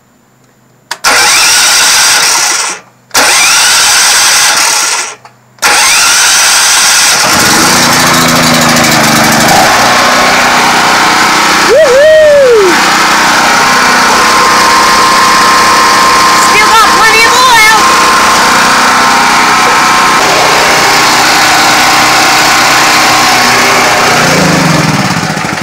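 A small gasoline engine, choke set to half, sputters through a few short pull attempts, then catches and runs steadily at a loud, close idle for the rest of the clip.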